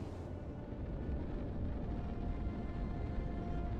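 A ship blowing up in the space game Starfield, heard as a deep, continuous rumbling roar that stays steady and heavy throughout, with no talking over it.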